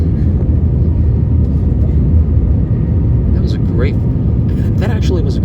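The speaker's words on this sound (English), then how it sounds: "That actually was a great lift off" Airliner taking off on a flight to Mecca, heard from inside the cabin as a loud, continuous engine roar and rumble through the lift-off, with people talking over it near the end.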